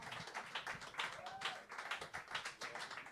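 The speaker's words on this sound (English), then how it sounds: "Is this the encore clap?" A small club audience at Blue Note Dresden claps for an encore, a fairly quiet, rhythmic patter of hands with a few voices mixed in.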